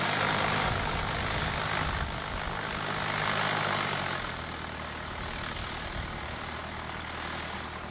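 A small airplane's piston engine idles steadily before takeoff at Auburn Airport, a loud continuous propeller drone heard close up from inside the aircraft.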